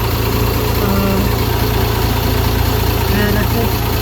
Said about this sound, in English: They're Detroit diesels